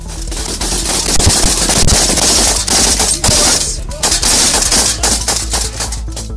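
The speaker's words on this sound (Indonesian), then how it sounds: "Peluru hampa adalah peluru yang tidak dilengkapi proyektil, sehingga saat ditembakkan hanya mengeluarkan suara tanpa melontarkan apapun." An SS-1 rifle fitted with a blank firing adapter fires blank ammunition in loud, rapid automatic bursts, with sharp reports running together in a dense fusillade and brief gaps between volleys.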